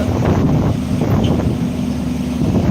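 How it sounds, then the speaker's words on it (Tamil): Loud, constant wind buffeting against the microphone, a dense low roar that never lets up. "காற்று ரொம்ப அதிகமாக அடிக்கும்"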